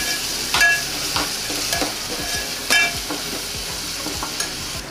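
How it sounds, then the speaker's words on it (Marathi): Onion, curry leaves, coriander and ginger-garlic paste frying in hot oil for a Konkan-style chicken curry, with a steady close sizzle broken by several sharp scrapes and stirring strokes of a spoon against the pan. "आता मम्मी त्यामध्ये थोडी कोथिंबीर टाकणार आहे आणि 1 चमचा आला लसूण पेस्ट आणि त्याला असं व्यवस्थित फ्राय करून घेणार आहे"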